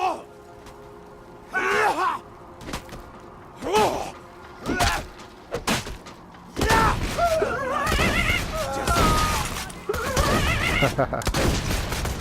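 A big gun fires repeatedly in the Borderlands 2 VR game. Blasts come in irregular bursts and grow denser and louder toward the end, mixed with grunts, groans and game effects.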